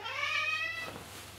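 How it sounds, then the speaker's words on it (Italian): A cat gives one drawn-out meow that rises and then falls, close and clear, before it fades into a quiet room. "Quindi se sentite piangere, miagolare"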